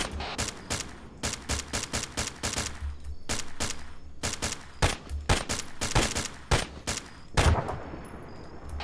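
Video-game gunfire as a man is shot down: rapid bursts of machine-gun shots in irregular volleys, moderately loud and crisp, with short pauses between strings of rounds.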